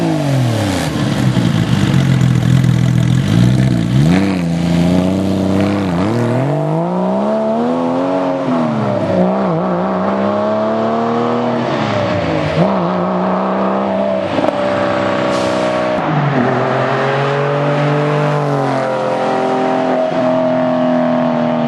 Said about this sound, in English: We'll give you 3 flips of the throttle.